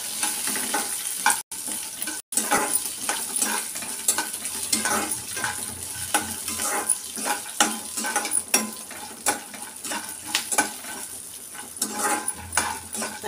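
Cumin seeds frying and crackling in a pan for mint and raw mango chutney, a continuous close sizzle with frequent stirring scrapes and utensil clicks.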